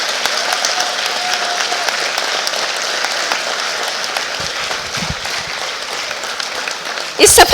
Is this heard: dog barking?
no